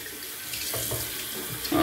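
Cold water runs from a tap for a rinse during a shave with no power, a steady close splashing stream that lasts the whole moment and gets a little louder at the end.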